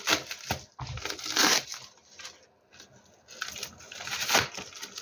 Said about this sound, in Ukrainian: О, пакет з пакетами. Це ось такі пакетики маленькі. На як зіп.